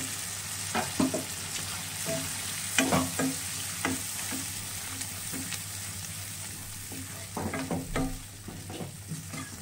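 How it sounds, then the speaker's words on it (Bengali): Boiled salted dal frying in a pan with spiced tarka as a spatula stirs and mixes it, giving a continuous sizzle with irregular scraping and clacking strokes up close. "ভালো করে কষাতে হবে এটাও। খুন্তি দিয়েই মিলিয়ে মিলিয়ে দিতে হবে।"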